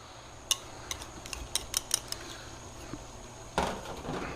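Sous vide smoked cabbage slaw being tossed with blue cheese dressing in a bowl: a run of light utensil clicks and scrapes, then a longer rustling mix near the end.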